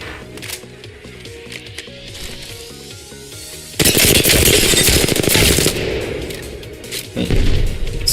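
Flatline assault rifle in the battle royale game Apex Legends fires a sustained loud automatic burst after a stretch of quieter game music, followed by a shorter burst near the end.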